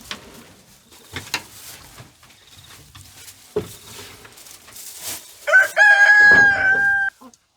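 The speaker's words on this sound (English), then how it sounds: "My cockerel always crows when I'm talking on camera." A backyard rooster crows loudly once near the end, a long drawn-out call, after scattered bumps and faint background noise.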